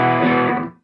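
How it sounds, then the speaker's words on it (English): A guitar amp turned up too loud and picked up by a room mic rings out as one brief, distorted chord that fades away within a second. "what we'll do now is we'll deliberately make this amp too loud"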